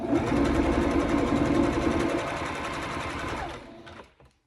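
A sewing machine hems a stretch skirt of exotic dancewear fabric, running in a fast, steady mechanical whir close by before slowing and stopping.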